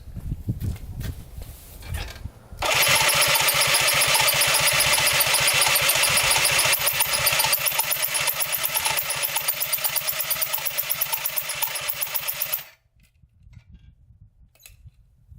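Polaris Sportsman 90 ATV engine cranks steadily for about ten seconds without firing, a loud rapid mechanical churning close by that stops abruptly, followed by near-quiet.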